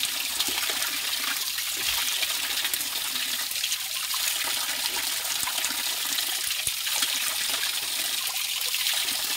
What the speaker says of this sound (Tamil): இயற்கையான ஊற்று,